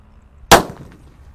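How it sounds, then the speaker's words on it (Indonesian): A Super Whistling Thunder firecracker wrapped in receipt paper goes off in one sharp, loud bang, followed by a quick fading tail and near silence. "Kalau ini Super Whistling Thunder yang dibuntel dengan kertas ya"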